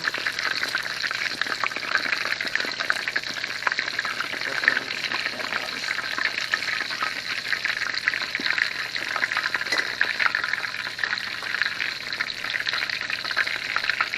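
Johnny cakes frying in oil, a steady close crackling sizzle that holds evenly throughout with no break in texture.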